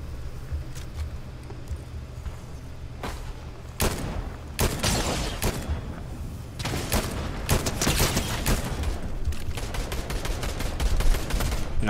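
Sniper and rifle gunfire rings out in a Fortnite match, a series of sharp, loud cracks spaced irregularly, growing denser in the second half over a game background.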